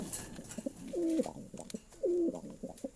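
Pigeons cooing close by: two drawn-out, throaty coos about a second apart, with softer short calls and small rustles between them.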